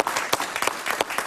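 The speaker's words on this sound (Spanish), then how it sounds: "Un aplauso para ella" Brief burst of studio audience applause on a Spanish-language talk show, a moderate, steady patter of many hands clapping, heard alone for just over a second.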